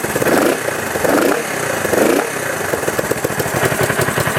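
A cold Honda CB450 brat tracker engine idles close by, a loud uneven lumpy throb that swells in slow pulses before settling into a quicker steady rap, no voices.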